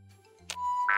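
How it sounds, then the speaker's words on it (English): Radio chime in Fallout 3, a short bright ding that follows a brief soft tone and rings out clearly to the end, with no talking. "It makes a chime after it's done when you click on it."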